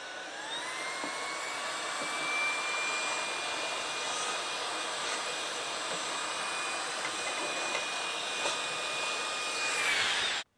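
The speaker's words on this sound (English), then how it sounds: "grab yourself a vacuum cleaner or an air gun and clean up the mess" Vacuum cleaner or air gun clears debris in a garage while working on a Classic Mini bonnet strut upgrade, a loud steady whine with a rising tone running nonstop for about ten seconds before cutting off abruptly.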